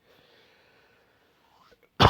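A single loud, harsh cough bursts out at the very end, close up, after near silence with faint background hum.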